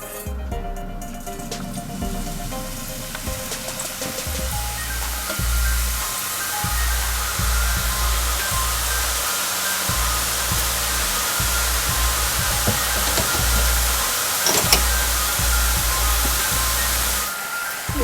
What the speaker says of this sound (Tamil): இந்த எண்ணெய் கொப்பளிக்கிறது